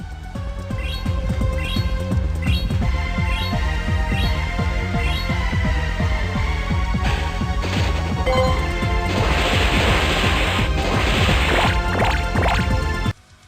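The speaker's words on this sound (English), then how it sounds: "now I'm going to let the audio play so you can hear the Charm" Pokemon Go battle against a Team Rocket boss where Gardevoir fires off Charm, sparkly chiming effects and repeated impact hits over thumping battle music, loud and busy, ending abruptly with no talking.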